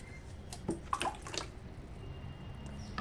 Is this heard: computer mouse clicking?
no